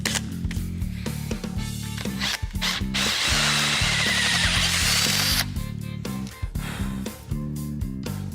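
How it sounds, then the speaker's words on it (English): A power drill bores a hole for a brass air filter fitting on a welded expansion tank, steady close-up whirring under a mechanical hum, with a sustained high grinding stretch mid-clip and short bursts before and after. "Now it's just drill and tap for the brass air filter, which is going to take a 1/4" pipe tap"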